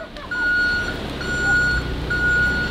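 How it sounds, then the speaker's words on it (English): Reversing beeps from a truck sound three times in a steady pattern of long, even tones over a loud idling engine rumble nearby. "make the beeping a bit louder"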